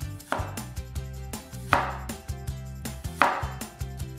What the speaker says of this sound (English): Cut the ginger up into about 2mm slices.